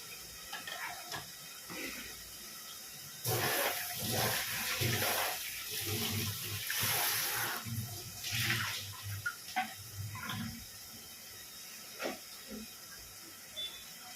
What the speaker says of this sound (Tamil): கட் பண்ண தக்காளி இதில் போட்டுப்போம். இதில் போட்டுட்டு இப்போ அது நல்லா வதங்கணும்.